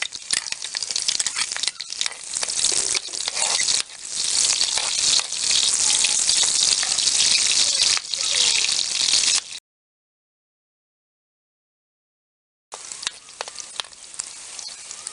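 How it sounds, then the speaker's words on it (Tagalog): Garlic and onion sauté in a hot pan, a loud, close, steady sizzle with stirring that stops abruptly for a few seconds, then starts again, with no voices. "Pwede na natin yung saute yung ating garlic."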